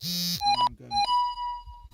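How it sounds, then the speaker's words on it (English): A camera phone rings during an outdoor allotment chat, giving a bright electronic ringtone of short stepped tones followed by a steady held tone, with a brief word of talk early on. "excuse the phone, it's the joys of using a camera phone."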